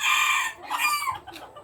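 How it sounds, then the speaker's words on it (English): Bantam chickens cluck and call loudly at close range in a backyard, a drawn-out strained cry followed by quicker broken clucks. "that chicken is always been chased by a male chicken"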